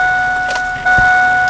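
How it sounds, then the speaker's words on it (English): A car's electric window rolls down after the key is turned, a short motor whir with a click partway through, while a steady high beeping tone keeps sounding. "that's me turning my key over to roll my window down"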